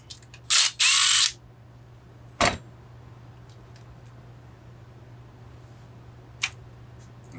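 Quarter-inch-head screws come out of the intake boot on a Homelite 750 chainsaw, marked by a few short, loud mechanical bursts like a ratchet or driver, then a faint click, over a steady low hum.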